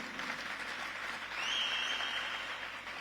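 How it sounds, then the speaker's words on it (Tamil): An audience claps steadily at a Tamil public ceremony honoring an athlete, attended by Deputy Chief Minister Udhayanidhi; the applause swells briefly midway, then settles, heard from a slight distance without talk. "நம்ம அனைவரும் நம்முடைய பாராட்டுகளை கைத்தட்டல் மூலம் தெரிவிப்போம்."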